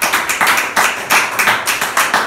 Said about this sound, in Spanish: Ese aplauso sea para Jesús